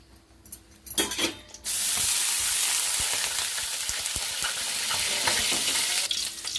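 Tempering for chutney sizzles loudly in a pan: steady, close, hissing frying that starts abruptly after a few soft clatters and runs continuously to the end, with no talking.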